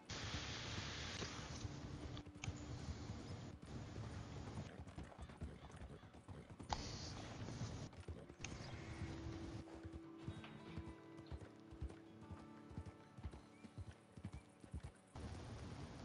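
Horse hooves clip-clop in Red Dead Online, a steady rhythmic trot under wind-like hiss with faint voices and in-game noise mixed in.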